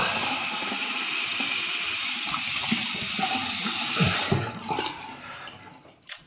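A tap runs steadily and loudly into a sink while someone rinses their face after shaving. The flow stops partway through, and splashing and dripping follow.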